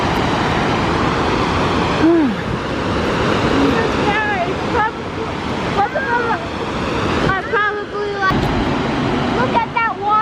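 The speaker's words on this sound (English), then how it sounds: "Look at that waterfall." Waterfall roaring in DuPont State Forest, a loud, steady broadband rush of falling water that fills the whole scene, with people talking over it throughout.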